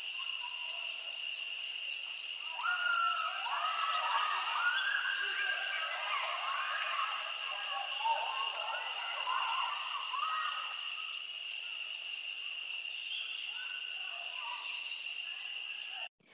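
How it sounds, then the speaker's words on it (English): A recorded pale-billed flowerpecker call plays as a rapid, steady series of sharp, high ticks repeating for about sixteen seconds, with faint chirps from other birds underneath. "So that tick, tick, tick, tick sound that you hear, that's the call of the pale-billed flower pecker."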